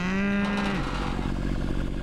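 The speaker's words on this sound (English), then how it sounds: "22 baby calves gives Becky 150 head of cattle." Cattle on a 320-acre native prairie ranch in Spanaway, Pierce County, give a single loud, close moo that slides downward and fades into a low rumble of the herd.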